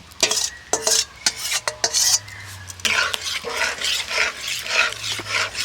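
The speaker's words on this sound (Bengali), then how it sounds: "সেই ছেঁকে নেওয়া পাল্পটা এবার আমি কড়াইতে দিয়ে দিচ্ছি" Strained raw mango pulp going into a hot karai, with sharp scraping and clinking of a spoon against the pan, a few distinct knocks followed by continuous stirring and soft sizzling.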